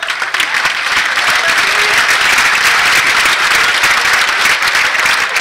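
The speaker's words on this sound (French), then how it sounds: "je vous demanderai de vous applaudir" Steady, dense applause from an audience at an honorary doctorate ceremony, loud and sustained throughout with no speech over it.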